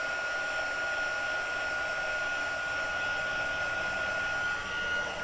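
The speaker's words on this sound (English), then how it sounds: "when you heat it with the heat gun here, it goes nice and shiny" A heat gun blows hot air steadily and loudly over a card being made, a continuous whooshing roar with no pauses and no voices.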